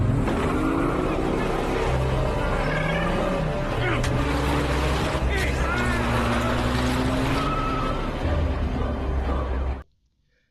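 A car accelerates hard and drives off, its engine noise loud and steady throughout beneath a dense film soundtrack with music and voices, then cuts off abruptly near the end.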